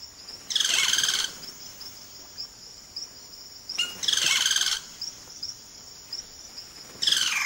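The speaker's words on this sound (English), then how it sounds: "The cacique males now go about the important business of attracting a partner by puffing up their plumage and showing off their remarkable vocal range" Cacique birds in the Amazon rainforest give loud bursts of bright, liquid calls, three repeated phrases a few seconds apart, over a steady high insect drone with quieter notes between.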